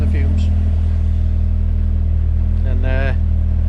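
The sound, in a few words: Peugeot 205 GTi Mi16 engine running with throttle blips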